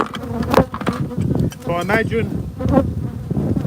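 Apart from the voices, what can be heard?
bees buzzing around a beehive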